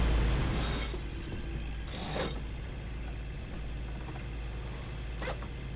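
A winch on a sailboat ratchets as the sail is tightened, a few short clicking bursts over a steady low motor hum, close by and moderately loud.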